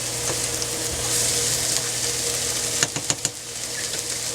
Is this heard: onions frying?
yes